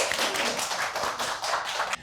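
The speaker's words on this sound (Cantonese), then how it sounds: "我哋俾掌聲" A church hall audience applauds after a talk, giving a dense, steady burst of close clapping that lasts about two seconds.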